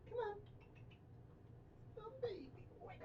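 A pet cat named Cloaks gives a couple of short meows, one near the start and another later, fairly close and soft, over a quiet indoor hum, with a person talking nearby.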